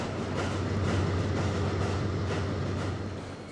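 A C&O J3a Greenbrier steam train in Trainz pulls out of Baltimore and gathers speed, heard as a steady, loud, rumbling roll with a faint clatter that eases slightly at the end.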